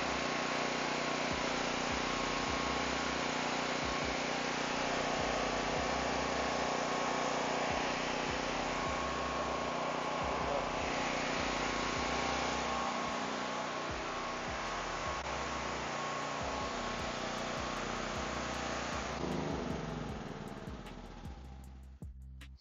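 A portable generator that is producing no power runs steadily nearby with a continuous engine drone, easing off near the end.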